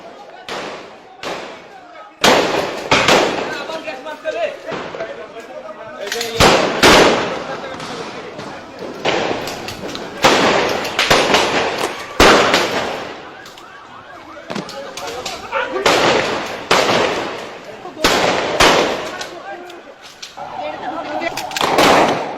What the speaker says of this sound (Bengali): হাজার হাজার রাউন্ড গুলি, টিয়ার শেল, গ্রেনেডের মুহুর্মুহু শব্দে প্রকম্পিত হয়ে ওঠে রাতের মতিঝিল